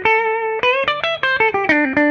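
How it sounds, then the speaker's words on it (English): Clean electric guitar through a Fender '65 Twin Reverb amp simulation in Amplitube 5, playing a short bluesy phrase of plucked single notes and double stops, bright and close, with no talking. "So for this preset I chose the Fender 65 Twin Reverb amp."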